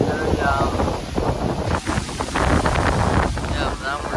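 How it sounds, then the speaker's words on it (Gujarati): Strong wind buffets the microphone in a steady low roar, with voices talking over it throughout. "કેટલો પવન"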